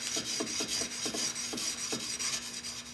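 A woodworking chisel rubbed back and forth on a fine grit sharpening stone, quiet rhythmic rasping strokes about three per second, close and unaccompanied.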